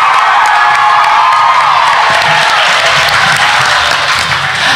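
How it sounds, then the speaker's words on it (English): A school variety show audience gives dense, sustained applause mixed with cheering and whoops, loud and steady without a break. "would you please stand up and accept some more applause?"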